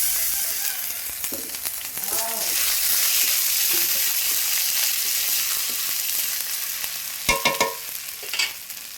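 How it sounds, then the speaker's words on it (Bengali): Onions fry with garlic in a pan, being browned for a curry, giving a loud, constant sizzle; stirring clatters and scrapes break in, most sharply near the end. "পেঁয়াজটা দিয়ে আবার লাল লাল করে ভাজবো"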